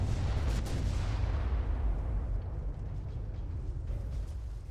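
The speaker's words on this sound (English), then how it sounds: "Oh, torpedo hit." A torpedo hit explodes against a warship in Ultimate Admiral: Dreadnoughts, a heavy low boom that rolls on and decays slowly over several seconds, loud and alone.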